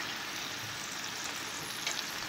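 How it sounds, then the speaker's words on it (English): Kale flower stir-fried with white chard and beef, a steady, fairly quiet sizzle and crackle of food frying in a hot pan, continuous throughout with no voices. "So you're just going to stir fry it"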